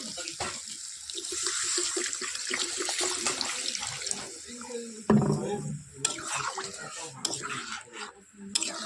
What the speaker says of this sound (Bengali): কষানো হয়ে গেছে, এবার জল দেবো